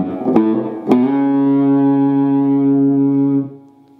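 An electric guitar with distortion and reverb plays the opening riff of a song: two sharp picked notes, then a long, ringing held note that sustains cleanly before it is cut off.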